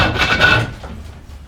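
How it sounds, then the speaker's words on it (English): An awl pressed against a wooden stool stile turning on a kick lathe gives a dry, rasping scrape, loud and close for about half a second before fading to a softer rub. "And I just kick the lathe and hold the awl in place."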